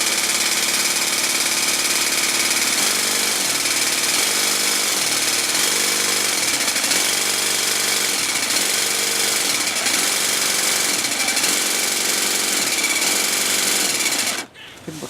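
A jigsaw fitted with a blade cuts tile in a straight line, its loud, harsh buzzing rasp running continuously with a rhythmic pulsing as the blade strokes, cutting off abruptly near the end.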